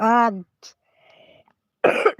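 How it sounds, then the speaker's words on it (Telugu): A brief vocal sound and a short pause, then one harsh, close cough from someone with a cold bursts out near the end. "దగ్గుతున్నారు"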